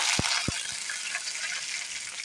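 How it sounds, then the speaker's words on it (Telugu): Curry leaves crackle and sizzle in hot tempering oil over popped seasoning seeds, a steady bright frying hiss throughout with a few sharp low pops near the start, close and even. "ఇప్పుడు కరివేపాకు వేస్తున్నాను."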